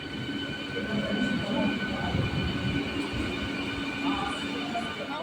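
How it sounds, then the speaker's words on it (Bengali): A train pulls into a railway station with a continuous rumbling roar and a steady mechanical drone. Wheels clatter underneath, and people talk nearby over the noise. "সবে ট্রেন ঢুকছে"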